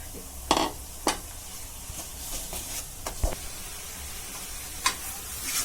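Tomato puree frying in a pan for mutton liver fry, with a soft steady sizzle under occasional sharp clinks of a spoon stirring against the pan, close up and without talk.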